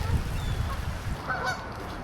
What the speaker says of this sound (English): Some Canadian geese getting fed up before the long flight south